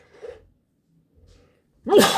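A couple of soft breaths and a quiet pause, then one sudden, sharp sneeze bursts out close by.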